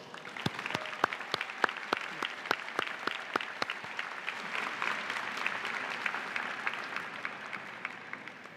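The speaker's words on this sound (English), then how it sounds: "Would you please join me in a round of applause?" Audience applause at a university diploma and awards ceremony: several loud, distinct claps at first, quickly swelling into dense, sustained clapping from a large crowd that continues steadily throughout.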